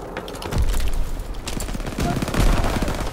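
Bursts of machine gun fire in a World War II shooter game, rapid rattling volleys repeating across the whole stretch, loud and close with a dense battle din behind them.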